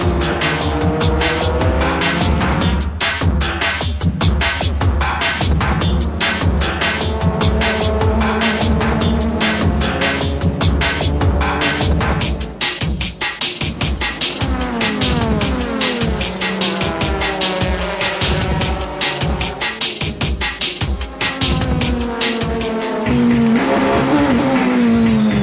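Toyota Supra GT race cars compete in a JGTC race, engines screaming loud and continuous with rapid gear-shift revving, tire squeal and passing cars blending into a dense, sustained racing roar.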